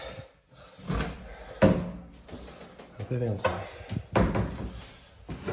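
Castorama kitchen cabinet drawers slide open and shut with a few short wooden knocks and thuds, heard up close beneath someone talking in French.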